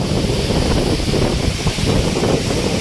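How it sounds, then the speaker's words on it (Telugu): A strong storm wind roars past a petrol station at night, blasting the microphone with a loud continuous low rumble and gusting buffets throughout. "అసలు మామూలుగా లేదు గాలి వాన తుఫాను"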